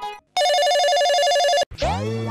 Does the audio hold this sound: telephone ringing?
yes